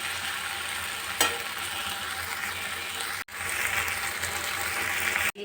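Okra and potatoes fry in a pan with a loud, steady, close sizzle that runs throughout, broken by two brief dropouts.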